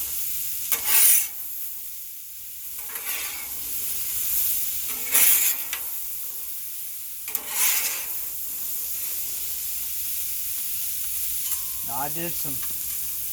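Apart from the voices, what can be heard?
potatoes frying in oil on Blackstone 36-inch propane griddle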